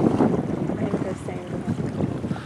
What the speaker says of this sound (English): And it's breezy